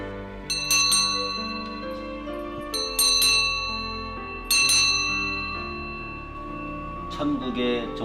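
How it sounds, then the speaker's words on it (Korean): A bell rings out several times during a well-dying experience in which participants lie in coffins, its clear ringing tones lingering and fading between strikes under low background sound. "천국의 종소리입니다."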